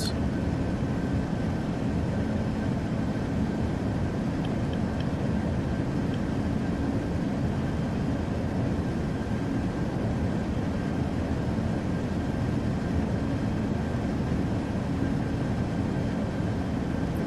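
Lockheed L-1011 TriStar engines in a flight simulator game on approach with flaps extended, a steady broad rumble and hum continuing evenly for the whole stretch.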